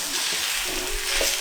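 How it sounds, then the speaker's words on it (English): Sausages splashed with Worcester sauce sizzle in a hot frying pan while being stirred, a bright continuous hiss with faint scraping, close up and without speech. "Worcester sauce, quick. Stir quickly."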